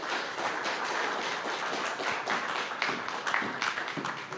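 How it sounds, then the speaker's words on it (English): A conference audience applauds at a festival gathering, a continuous patter of many hands clapping at moderate distance, fairly soft and sustained. "A big applause"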